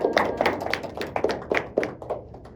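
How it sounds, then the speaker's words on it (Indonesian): A classroom of students clapping together in a patterned rhythm, about ten sharp, fairly close claps in uneven groups with short gaps between them, and no talk. "tepuk tangan untuk kita semua"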